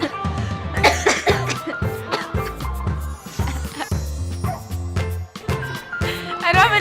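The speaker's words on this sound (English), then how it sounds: "But in this test, we would have the patient cough or swallow." A patient coughs repeatedly during a cranial nerve exam testing the vagus nerve; a series of loud, close, harsh coughs and throat clearing in irregular bursts, with some voiced sounds between them.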